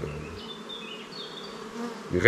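Honeybees swarm a busy apiary in a dense, steady buzz heard up close, with individual bees droning past and a louder rustle near the end.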